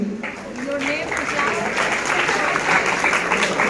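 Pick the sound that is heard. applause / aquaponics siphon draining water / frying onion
applause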